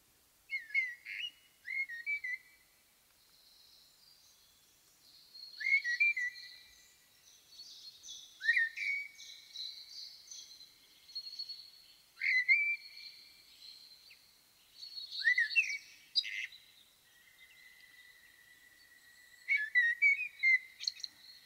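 A blackbird singing alone, a series of fluting whistled phrases with twittering ends repeated every few seconds, clear and close in a quiet setting.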